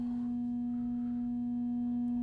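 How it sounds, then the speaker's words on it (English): A single steady sine wave from a Serge modular synthesizer oscillator hums alone at one constant pitch, smooth and unwavering, with a faint low background rumble beneath it. "we're just hearing a single sine wave coming from one of our NTOs"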